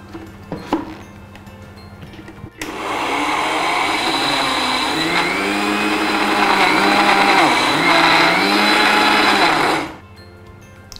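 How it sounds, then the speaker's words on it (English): A kitchen blender pulses a spice rub that includes oregano, its motor whirring loudly and steadily for about seven seconds with shifting pitch before cutting off, with quiet moments before and after. "So I am just going to pulse that all in."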